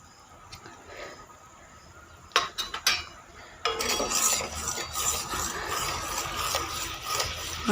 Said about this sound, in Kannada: ಅರ್ಧ ಹೋಳು ನಿಂಬೆಹಣ್ಣು ಹಾಕ್ಬಿಟ್ಟು ಮಿಕ್ಸ್ ಮಾಡಿಬಿಟ್ಟು